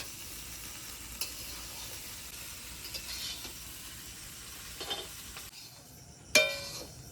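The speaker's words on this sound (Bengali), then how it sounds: "চিড়েটা প্রায় ভাজা হয়ে এসছে" Flattened rice (chira) for chira pulao fries slowly in a pan over low heat, giving a soft, continuous sizzle with a few light clinks and scrapes of stirring, quiet and close.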